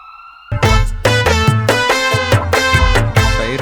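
A police car siren wails loud and close, its tone stepping in a repeating cycle that keeps going for several seconds.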